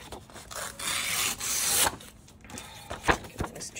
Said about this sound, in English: So I'm thinking I might tear that.